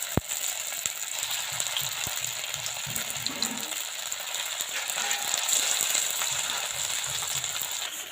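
Papaya pieces fry in hot mustard oil in a wok, giving a steady crackling sizzle with scattered pops and a few sharp clicks throughout, close and continuous with no talking.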